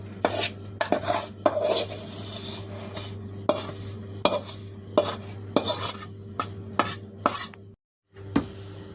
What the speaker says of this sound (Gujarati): હવે પેલા આપણે લોટ કાઢી લઈશું આમાં.